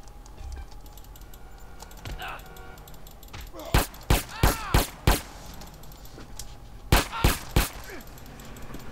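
Pistol gunfire in Grand Theft Auto rings out as a rapid run of sharp shots, then a second short volley, over faint background noise and quiet talk.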